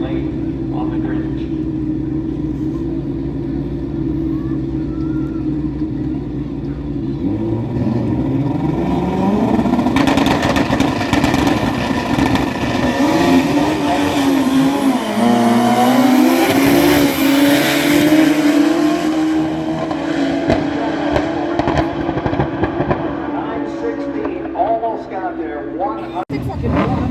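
A jet-powered truck on a drag strip, its turbine building from a low drone to a loud, rising whine and roar, then fading back, with commentary over it.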